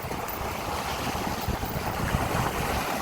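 Strong storm wind blows hard beside the rising LA River, a dense, constant roar of gusts buffeting the microphone, mixed with rushing water and no speech.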